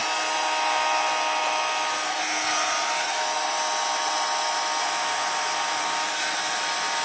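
A hair dryer blows steadily and loudly to dry paint on a thrifted picture frame during a craft makeover, a continuous broadband whoosh holding even for the whole stretch with no talk.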